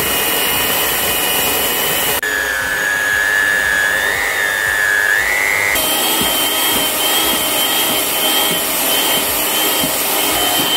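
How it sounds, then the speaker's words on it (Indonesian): Electric mixer running at high speed through ice cream batter, a steady loud whine that climbs briefly in pitch mid-clip before settling back to a constant drone throughout. "kie langsung ke mixer ya. Gunakan kecepatan yang tinggi."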